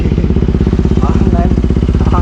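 A Bajaj Pulsar RS200 motorcycle with a Yoshimura aftermarket exhaust runs close by, a loud, rapid, evenly pulsing exhaust beat at a steady low idle throughout.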